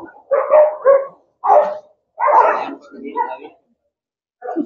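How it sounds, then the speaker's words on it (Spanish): Dogs bark and snarl in short loud bursts as they fight near an outdoor church Mass, several close, sharp barks with brief pauses between them. "Y los perros ya se empezaron a pelear también."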